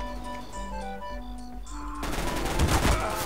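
Rapid gunfire in Counter-Strike bursts out loud and dense about two seconds in, after calmer tonal game music, continuing in quick rattling shots to the end.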